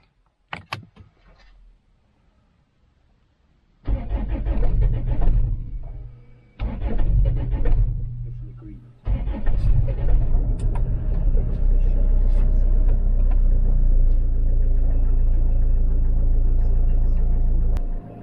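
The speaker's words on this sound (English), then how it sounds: "as you could hear there, she was struggling to start" A Land Rover Freelander 2 diesel with cold glow plugs struggles to start: a few faint clicks, then two short loud cranking bursts that cut out, and a third attempt that catches into a steady, loud idling rumble.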